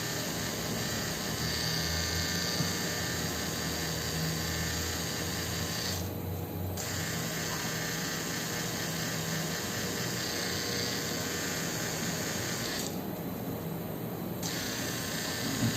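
A tattoo machine gives a steady close mechanical buzz while shading a realistic lion tattoo. The buzz runs continuously with two brief dips in its high hiss, and no one speaks.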